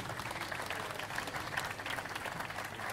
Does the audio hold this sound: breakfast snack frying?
no